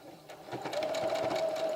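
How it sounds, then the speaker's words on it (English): Sewing machine stitching and backstitching a seam on festival clothing being altered, a steady close whirring run with short rhythmic stitch pulses, heard alone. "I will backstitch just to make sure that seam doesn't come apart"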